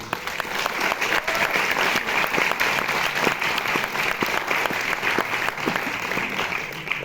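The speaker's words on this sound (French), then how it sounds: "Vous avez eu raison d'applaudir cette bande-annonce" A cinema audience at the Cinémathèque française applauds a trailer, producing thick, continuous clapping with occasional sharper individual claps standing out, held at a steady level throughout.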